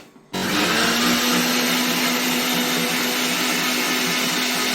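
Mixer grinder with a plastic jar blending coffee, whirring loudly and steadily after an abrupt start, with no voices over it.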